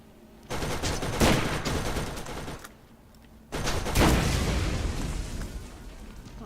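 Turret gunfire in Borderlands, two long loud stretches of rapid shooting and explosive booms separated by a brief lull.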